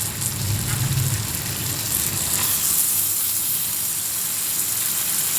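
Lote fish, also called Bombay duck, fries in a pan with spiced masala, giving a loud, dense, continuous sizzle that stays steady throughout, close up with no speech.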